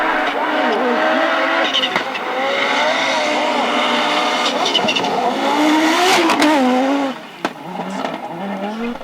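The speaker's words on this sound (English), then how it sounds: "The 5-pot going on full blast down the Finnish forest roads." A straight-five Subaru rally car runs at full throttle down Finnish forest roads. The engine gives a loud, close, sustained roar that rises and falls with gear changes, with tyre noise and a brief dip near the end.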